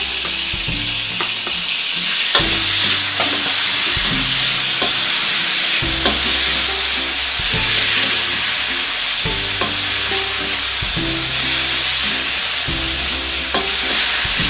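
Shrimp sear in a pan beside fish, making a loud, continuous sizzle close by, broken by repeated stirring scrapes and clinks at a fairly regular rhythm, with no voices.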